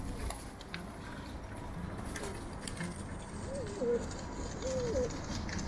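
Pigeons eat leftover feed and coo softly, with several low coos near the end under steady background noise, faint pecking and patter, and no one speaking.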